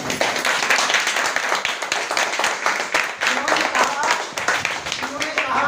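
Hall audience at an RCM business motivational event applauding with loud, rapid, continuous clapping, close and dense for the whole stretch, while a voice speaks over it.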